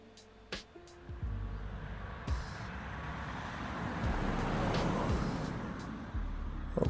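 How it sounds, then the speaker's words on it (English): Passing cars from a stock sound effect: vehicles swell and fade along a roadway, with a broad traffic wash building in the middle and occasional sharper clicks, no voices. "Go to cars and search for it, passing cars."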